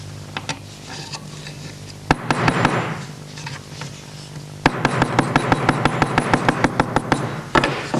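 A curled copper strip is hammered flat on a wooden block, with a run of sharp metallic taps, scattered at first and then a steady rapid series of strikes, close and fairly loud.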